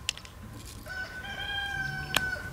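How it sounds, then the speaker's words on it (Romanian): A rooster crows once in a long, drawn-out call at a moderate distance, followed by a sharp click and faint rural background noise. "Ce frumos cântă cocoșele"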